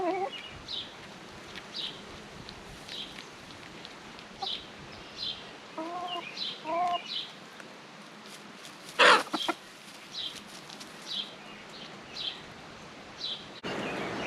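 Homestead hens kept in a hoop coop cluck softly and intermittently in short calls, with one louder squawk midway, against faint outdoor background noise.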